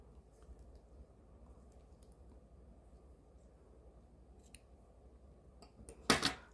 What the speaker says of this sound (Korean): 빼뜨기를 하고 요 정도의 실을 잘라 줄게요